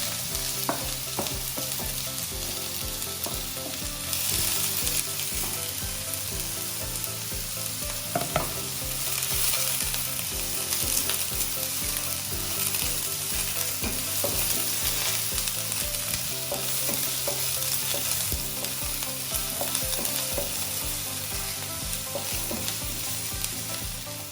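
Sliced onion frying in coconut oil for a squid roast, a dense continuous sizzle and crackle with repeated stirring and scraping in the pan, close and loud throughout, no voices.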